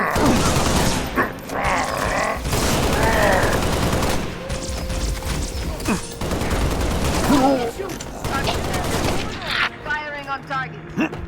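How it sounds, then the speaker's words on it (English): Rapid bursts of rifle gunfire rattle through a Halo Reach firefight, loud and repeated across the scene, mixed with mechanical clanks and game voices calling out between volleys. "Firing on target."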